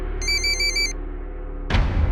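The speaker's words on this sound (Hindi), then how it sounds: "फोन उठाओ।" A telephone rings with a bright electronic trill lasting under a second, followed by a short pause and a sudden louder clatter, like the handset being picked up, in a quiet indoor room.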